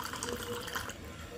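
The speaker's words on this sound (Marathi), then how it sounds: "या पिंपेला काय झालं काय माहित, नळ गळतोय आणि हा नळ गळत तिकडं जातोय आणि तिकडून ठिपकतं पाणी" Water drips steadily from a leaking tap on a household water drum, a soft, continuous wet patter heard close by with no voices.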